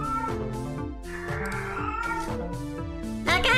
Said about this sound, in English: Oh wow, my cat is going crazy.